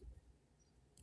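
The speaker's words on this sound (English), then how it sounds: "You just need to cut the spring here." A single sharp snip of cutters through spring coil memory wire for a pearl bangle, one quick crisp click near the end after near silence.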